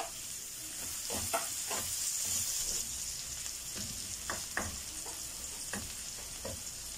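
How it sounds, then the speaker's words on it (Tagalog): Garlic toasting in oil in a frying pan while cooking Filipino adobo of milkfish liver, giving a steady close sizzle with intermittent crackling pops and stirring scrapes throughout. "Lagay na po natin itong bawang. Toasted nyo rin po."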